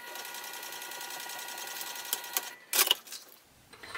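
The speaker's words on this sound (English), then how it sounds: "So I'm going to top stitch down that center now." Sewing machine top stitching down the center of a wristlet, a fast, even mechanical whir with rapid rhythmic needle ticks that stops partway, followed by a few handling clicks and rustles.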